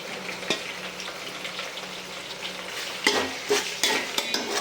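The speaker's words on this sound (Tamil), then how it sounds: "ஸோ தக்காளி ஆட் பண்ணுறோம்." Sliced tomatoes dropped into a hot pan and stirred while frying for chicken biryani, a steady sizzle under scraping spoon strokes, with a few louder clanks and stirs near the end, no talk.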